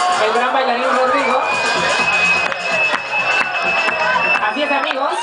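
Crowd at a nightclub dance party cheering and whooping loudly and continuously, with shouts and whistles in a dense, reverberant mass of voices.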